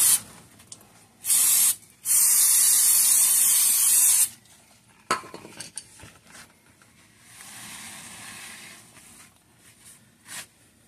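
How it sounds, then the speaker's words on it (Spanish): A Cadillac SRX brake disc is sprayed down to wash off grease. Two loud hissing spray bursts come up close, a short one and then a longer one lasting about two seconds, followed by quieter rustling and a softer hiss. "aquí vamos a lavar el disco por si se nos llenó de grasa"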